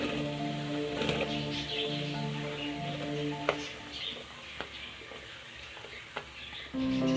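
Onions sizzle in hot ghee in a handi, a soft steady crackle with scattered sharp pops and light clatter, fairly quiet and without talk.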